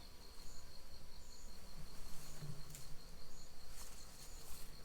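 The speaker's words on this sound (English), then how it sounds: "Right now, let's take care of some bees." A steady, droning buzz of bees, continuous and fairly close, with a faint low hum beneath and no voices.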